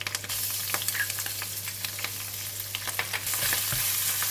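Spices, curry leaves and ginger garlic paste frying in hot ghee for chicken kurma, giving a loud, continuous sizzle with crackles and occasional stirring scrapes, heard up close with nobody speaking.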